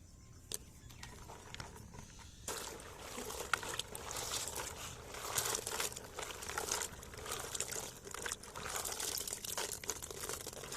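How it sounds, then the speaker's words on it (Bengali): Jujube berries being washed by hand in a basin of water, quiet at first, then continuous sloshing, splashing and rattling of wet fruit, close and fairly busy, with no clear speech. "এবার আমরা কুলগুলোকে ধুয়ে নেব।"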